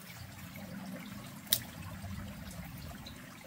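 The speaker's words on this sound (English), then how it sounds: "Love listening to the water." A stream flows out in the woods with a soft, steady trickle and gurgle, fairly faint. A single small splash or knock sounds midway.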